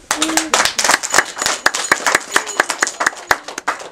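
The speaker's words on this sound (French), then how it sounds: "Si vous y croyez, applaudissez." Children's theatre audience clapping together in a steady rhythm, a crisp close pattern of claps repeating roughly every quarter second with no talk over it.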